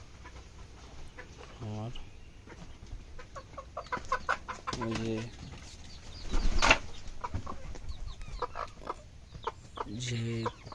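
Chickens and a rooster on a poultry farm give out bursts of clucking at intervals, fairly close, with a person speaking briefly over the birds.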